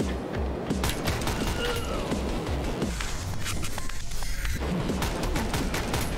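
Gunfire in the video game John Wick commute simulator: dense, continuous shooting with repeated sharp shots and booms throughout, loud and close, with a brief lull in the middle before firing resumes.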